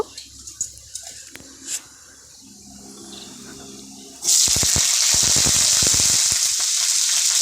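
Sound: cauliflower frying in oil with panch phoron

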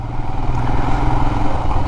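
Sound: Royal Enfield Himalayan motorcycle engine running

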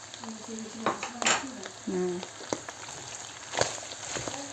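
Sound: liver and onions frying in a pan

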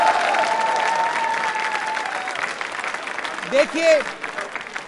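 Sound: audience applause

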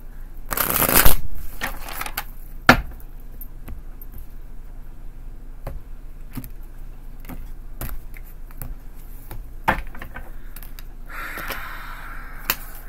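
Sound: shuffling tarot cards

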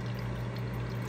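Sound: water streaming from a solar-powered dehumidifier

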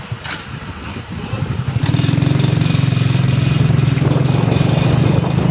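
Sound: motorcycle engine while riding

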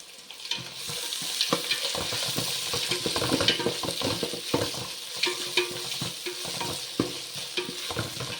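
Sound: ginger garlic paste and onions sautéing in a pan

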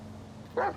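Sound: dog barking in GTA 5 video game

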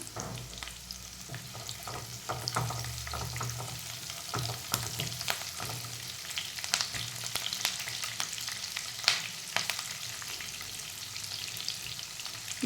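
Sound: cumin seeds frying in oil for green turmeric curry

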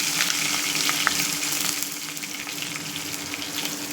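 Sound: frying garlic, curry leaves and asafoetida in oil

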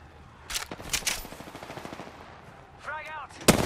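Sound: gunfire in video game Apex Legends

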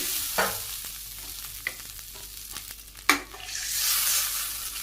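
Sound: curry added to hot mustard seed tempering, sizzling while stirred

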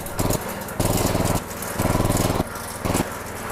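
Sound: grass chopper machine engine running

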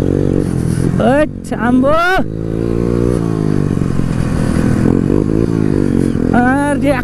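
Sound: modified Honda dirt bike engine revving during wheelie

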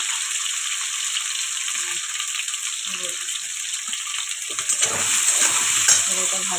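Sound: taro frying in a pan

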